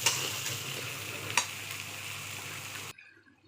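Bamboo-leaf dried fish being stir-fried for a radish chorchori, a steady broadband sizzle with scraping stirs and one sharp clink near the middle, cutting off abruptly near the end.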